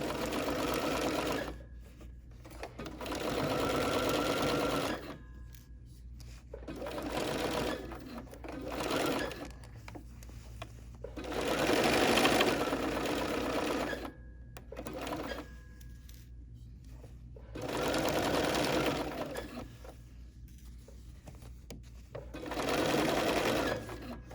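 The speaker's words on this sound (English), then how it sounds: "I'm just going to stitch a little skinny seam allowance to hold everything here together" A BERNINA sewing machine stitches a narrow seam allowance in about seven separate bursts of whirring, each a few seconds long, with brief quiet pauses between them.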